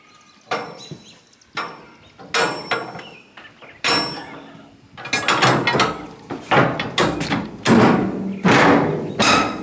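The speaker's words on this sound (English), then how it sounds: "We'll close this door." Metal door of a shipping container shop being worked shut, a series of loud clanks, scrapes and thuds with rattling mechanism sounds, close by, growing busier toward the end.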